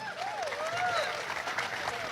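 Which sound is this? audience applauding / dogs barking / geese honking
audience applauding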